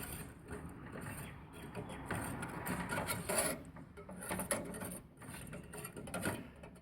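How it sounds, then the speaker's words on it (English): A homemade leather polish mixture being stirred in a container, giving soft, uneven scraping and rubbing strokes that come and go in close, low-level bursts, with a voice faintly present in places. "I'll give that a quick stir just to make sure it's all mixed."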